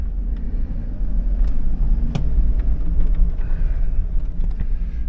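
A 2006 Hummer H2 with a 6.0L LQ4 V8 runs in low gear, a steady low rumble with occasional faint clicks and knocks close by.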